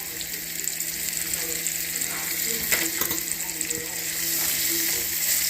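Onions and garlic sizzling in a pan with browned chicken, a dense steady crackle up close with a few stirring knocks and a brief murmur of a voice.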